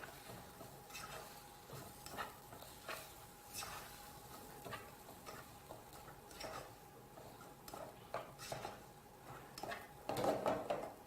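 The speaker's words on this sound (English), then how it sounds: "we're just going to give that a quick mix" Arrowroots being stirred into a stew in a cooking pot: soft, repeated scraping strokes of a spoon against the pot in an irregular rhythm, quiet and close, with a faint kitchen background and no speech.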